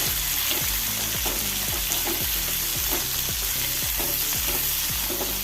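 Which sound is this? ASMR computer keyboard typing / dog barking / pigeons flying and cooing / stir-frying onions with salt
stir-frying onions with salt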